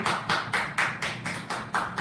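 A church congregation claps during a Sunday worship service, a steady run of rhythmic, evenly spaced claps with no talking.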